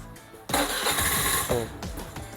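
A Honda Zoomer-X scooter engine fires up and revs sharply when the throttle is twisted, then sags and stumbles as it tries to stall, loud and close with no talk.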